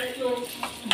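Spiced broad bean curry sautéing in a pan with chutney, a brief close burst of sizzling with a couple of quick stirring scrapes and a light clink.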